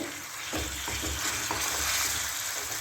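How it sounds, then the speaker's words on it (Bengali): Marinated chicken with onion, coated in turmeric, ginger and garlic paste, sizzles and fries in a pan while it is stirred, with soft scraping strokes over a steady crackle, close up and with no talking. "চিকেনটা একটু ভাজা ভাজা করি"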